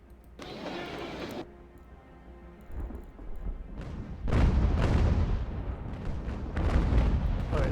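Ship cannons fire during a sea battle in Ultimate General: American Revolution, a few heavy booming blasts with long rumbling tails spaced several seconds apart, loud and close with no talking.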